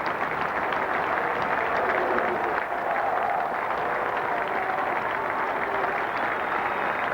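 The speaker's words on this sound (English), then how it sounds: "A lot of applause." Sustained applause from a Test match cricket crowd in 1992 England, a steady dense wash of clapping from the stands continuing without break.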